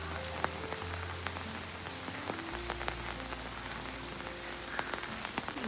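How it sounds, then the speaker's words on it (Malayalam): Heavy rain pours steadily onto surfaces on a rainy day, a dense, constant hiss with scattered sharper drops and a low rumble, with no voices. "പിന്നെ ഇവിടെയൊക്കെ നല്ല മഴയാണ്."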